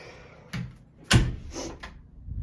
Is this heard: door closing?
yes